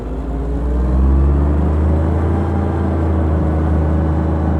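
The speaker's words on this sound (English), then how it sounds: "Give it a little gas." Jay Leno's tank car engine rumbles deep and heavy as gas is applied, a loud low-pitched throbbing drone that swells briefly and then holds steady.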